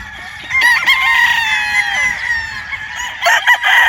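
A Harold Brown Gray gamefowl rooster crows loudly and close on a farm, one long drawn-out call followed by a shorter second burst, with no talk.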